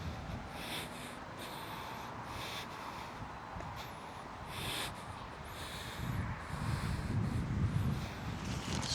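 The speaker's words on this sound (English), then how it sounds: "So windy." Steady rushing wind buffets the microphone, gusting louder toward the end, with faint outdoor rustling and no voices, on a suburban street in Molendinar, Gold Coast.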